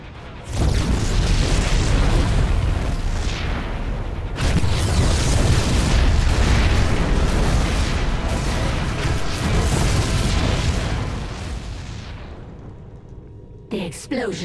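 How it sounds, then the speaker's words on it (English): Continuous booming explosions and rumbling blasts, loud and close, rolling on for several seconds before fading out, followed by a few sharp electronic tones, in StarCraft II: Heart of the Swarm. "The explosions have stopped."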